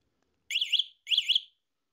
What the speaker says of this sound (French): quand tu la branches, elle va te biper un petit coup pour te dire qu'elle est sous tension